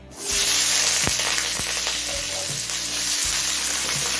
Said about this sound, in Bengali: তেলটা হাই ফ্লেমে গরম করে নিয়েছি এবার আলুটা ভেজে নেবো